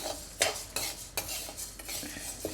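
Jowar grains dry-roast in a pan over high flame for homemade multigrain malt powder, with repeated sharp scraping and clinking strokes of a metal spoon at an uneven rhythm and little sizzle.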